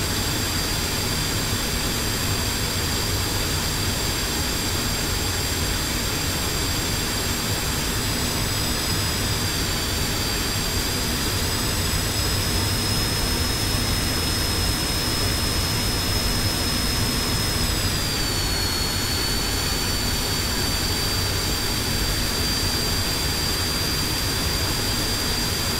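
Jet airliner engines whining steadily as the plane taxis at an airport, a loud constant drone with a high tone that slowly dips and shifts, no voices.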